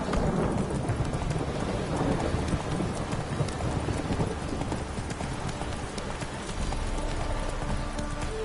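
Roach, the horse in The Witcher 3: Wild Hunt, gallops with steady rhythmic hoofbeats over a rumble of rain and thunder, loud and continuous, with no talk.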